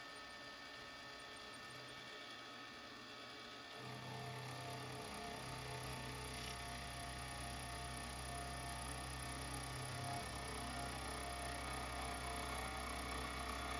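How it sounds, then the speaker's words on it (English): A face mill on a milling machine cutting the metal sole of a handmade plane body: a steady machine whir and grinding hiss that deepens and grows slightly louder partway through, continuous and close. "It'll take multiple passes with this face mill to get it down."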